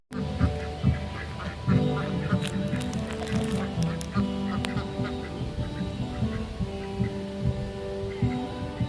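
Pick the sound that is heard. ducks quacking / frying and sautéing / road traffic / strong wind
ducks quacking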